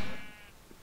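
Sheep in the Minecraft video game gives a single short bleat, loud at the start and trailing off quickly, with no talking.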